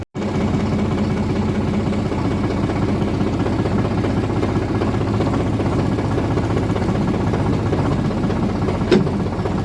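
A tractor engine runs steadily at close range, a constant low rumbling drone with even vibration throughout, briefly interrupted by a faint click near the end.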